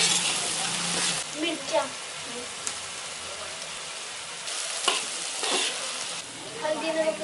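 Steady sizzling of tomato, garlic and ginger paste frying with chilli in a pan, with occasional stirring scrapes and a brief spoken word over the hiss.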